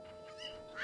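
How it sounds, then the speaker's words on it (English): A chicken clucking in Ocarina of Time, a short, faint honking squawk heard alone over a steady background tone, rising at the end. "Why was that chicken in the crate?"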